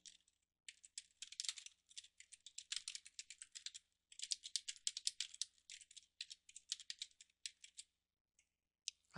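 Path name being typed on a computer keyboard: rapid, fairly quiet clicking keystrokes in bursts with short pauses, close by and alone.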